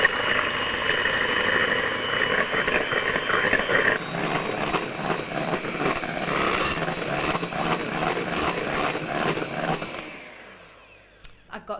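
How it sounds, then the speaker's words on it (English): An electric whisk whips six egg whites with a loud, steady motor buzz and rattling in the bowl, then cuts off abruptly near the end, leaving quiet. "I'm going to start whisking these with an electric whisk for about 4 minutes"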